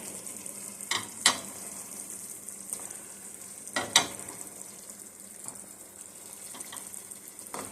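Cubes hiss and sizzle in a hot cast iron pan for spinach dip, a faint steady fry broken by a few sharper crackles and clinks as more go in.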